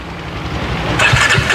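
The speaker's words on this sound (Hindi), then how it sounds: "एग्जॉस्ट का साउंड एक बार आपको सुनाते हैं भाई" A Jawa 42 motorcycle fitted with an aftermarket exhaust is started. A low rumble builds for about a second, then the engine catches with a brighter, close burst.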